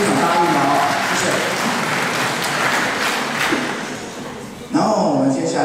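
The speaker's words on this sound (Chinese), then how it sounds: "大家掌声一下，谢谢" Audience applause at a live full-band music event in a Tainan venue, clapping and crowd noise running under someone talking over a microphone, with a sharp louder burst of clapping near the end.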